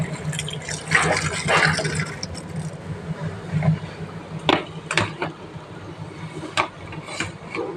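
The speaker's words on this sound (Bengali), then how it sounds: "এরপরে দেখো আমি ফ্রাইড রাইসের জন্যে গাজর, বিনস ধুয়ে নিচ্ছি" Water splashes and trickles as carrots and beans are rinsed for fried rice, with uneven splashes, drips and rubbing against a container nearby, broken by a few sharper knocks.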